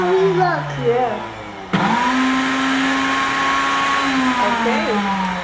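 An Instant blender motor starts abruptly and runs steadily at a loud, constant whine with a slight rise in pitch, after some background chatter; voices murmur faintly over the motor.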